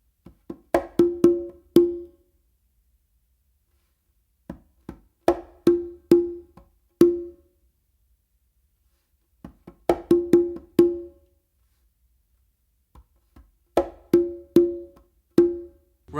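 Conga drumming in repeated phrases of palm, closed slap and open tones, several quick strikes per group with pauses between, close and clear with no talking.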